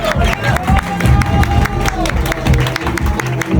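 A pageant audience breaks into loud, steady applause and cheering for the jury chairwoman, with a close crowd of clapping hands running throughout.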